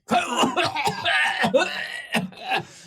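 Harsh, repeated coughing from a person, several rough bursts in quick succession with short gaps, close and loud with no other sound around it.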